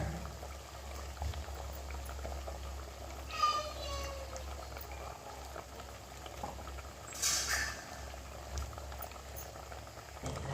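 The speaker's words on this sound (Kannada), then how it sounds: "ಇವಾಗ ಕುದಿ ಬರ್ತಾ ಇದೆ" Egg masala curry with salt and spices coming to a boil in a pot, a low steady bubbling and simmer with a couple of brief louder splashes, faint and continuous beneath a quiet voice.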